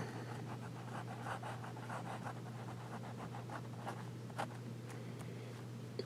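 A fine-nib fountain pen with Montblanc Emerald ink scratches softly across paper in quick, repeated strokes, faint and close against a low steady background hum.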